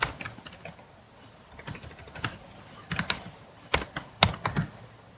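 Verilog code is typed on a computer keyboard in irregular bursts of crisp, close clicks, getting louder and more emphatic near the end, with no talking over them.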